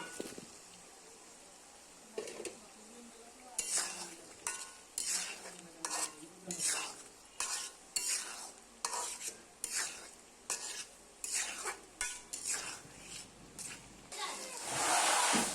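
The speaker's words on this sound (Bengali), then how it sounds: "আলুটা দিয়ে প্রথমে মশলার মধ্যে কষিয়ে নেব" Potatoes are stirred and sautéed in spice masala for a broiler chicken curry, with a rhythmic run of spatula scrapes against the pan over a soft sizzle. Someone talks over parts of it.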